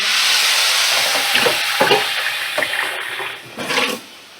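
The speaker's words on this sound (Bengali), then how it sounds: "দু তিন মিনিট এইভাবে নাড়াচাড়া করে ভাজা ভাজা হয়ে গেলে" Scraping stirs of a spoon in a pan over a steady sizzle of frying, several distinct strokes at an uneven pace, close and clear.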